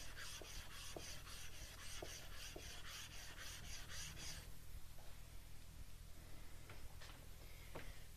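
Hand-sanding a woodworking tool, likely a Lie-Nielsen plane, with sandpaper gives a steady rhythmic rasping, stroke after stroke for about four seconds, then softer scattered rubbing over a constant low hum.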